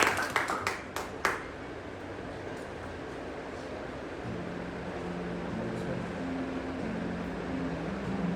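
A short burst of a few sharp claps from an audience at a pastors' meeting in Araku, fading after about a second into a steady room hum with no further clapping.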